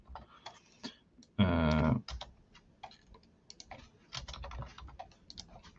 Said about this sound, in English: I'm moving over to my regular keyboard now.